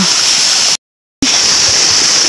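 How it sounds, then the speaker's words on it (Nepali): A mountain stream rushes in a steady, loud, hissing flow, broken by a brief gap of silence before resuming at the same level. "खोला बगिरहेको छ यो पाहाडको खोला यस्तो छ"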